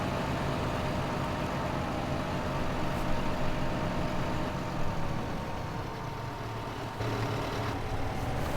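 Steady engine drone of a telehandler fitted with a gear mod in Farming Simulator 2015, a continuous low rumble at constant level with slight shifts, no one speaking.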